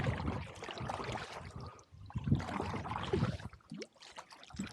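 A kayak paddle dips and pulls through the water of the Bill Williams River, with soft splashes and trickles coming in uneven strokes, close and fairly quiet, and no talking.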